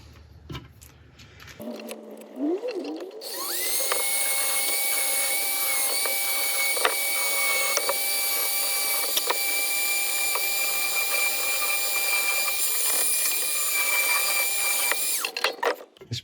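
High-speed rotary tool bit carving an epoxy resin inlay in woodturning, spinning up to a loud steady high-pitched whine that holds for over ten seconds with small fluctuations as it bites the resin, then cuts off.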